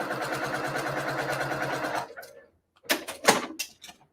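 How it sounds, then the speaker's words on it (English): A sewing machine stitching a quilt block square runs in a steady, fast whir for about two seconds, then stops and is followed by a few short handling clicks and rustles. "take that second square and stitch it to the opposite side of the block"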